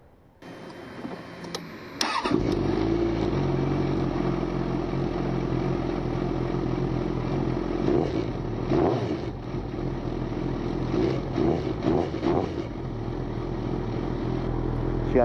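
2008 Suzuki GSX650F with an unbaffled Delkevic exhaust on a cold startup: the engine catches after a brief crank, then idles close and steady with a deep, bassy rumble and slight fluctuations in revs.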